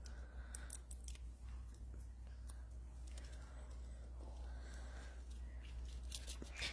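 Scissors snip through paper while cutting dimensional pieces for a card, giving soft, close, irregular clicks and crunches over a low steady hum, with faint murmuring voices at times.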